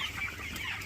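Small chickens of around 550–600 grams cluck on a poultry farm, faint and continuous in a short stretch of low background noise.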